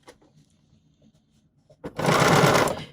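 A BERNINA sewing machine fitted with Edgestitch Foot #10 stitches in a short, loud, fast whirring run after a quiet stretch of small handling noises.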